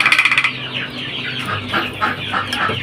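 Young chicks cluck and cheep in a rapid burst at first, then keep up softer, scattered chirps and clucks from close by over a low background hum.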